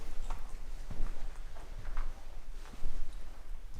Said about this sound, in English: this is where the horses live.